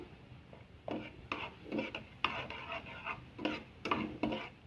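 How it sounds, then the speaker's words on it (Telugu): Rhythmic scraping strokes of a spoon in a pan over a soft sizzle as garlic and tempering seeds fry in oil, close and fairly quiet, several strokes in a row. "వెల్లుల్లిపాయలు కొద్దిగా వేగిన తర్వాత ఒక స్పూన్ తాలింపు గింజలు వేసుకుంటున్నాను"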